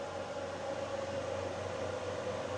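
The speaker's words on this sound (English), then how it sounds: "And the fans did just kick in." Cooling fans running in an OSCAL PowerMax 2400 portable power station under near-maximum load give a steady, quiet whir with a constant hum, heard alone without talk.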